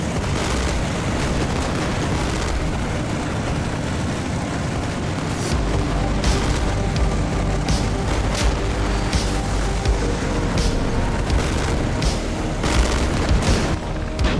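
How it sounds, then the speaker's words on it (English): Heavy machine gun and grenade launcher fire in the Armored Brigade II war game, with troops entering a city's outskirts: a dense, continuous din of booms and bursts with sharp cracks that gets louder and busier about halfway through. "My guys come under fire from heavy machine guns and grenade launchers as they enter the outskirts of the city."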